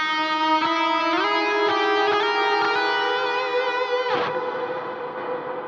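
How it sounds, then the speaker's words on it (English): Electric guitar lead tone set with a moderate amount of reverb, sustained distorted notes with bends and several picked changes ringing out alone, tails blooming into a lush wash. "I got one with a little bit more reverb."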